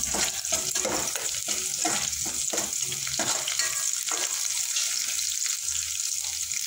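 Garlic sautéing in oil in a pan, a loud steady sizzle with rhythmic stirring scrapes in the first half, then an even crackling fry, close up and without talk.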